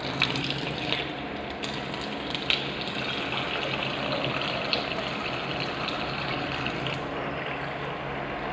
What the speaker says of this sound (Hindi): इसमें हम 800 ml जो है वो पानी ले लेंगे, सिंपल टैप वाटर।